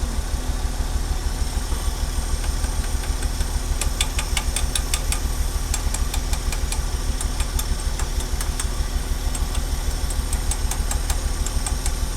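A Ford Bullnose truck engine idles roughly after washer, power steering and brake fluid were added, as if a plug is fouled. It runs with a loud, close, uneven rhythmic chug and intermittent ticking, and nobody talks.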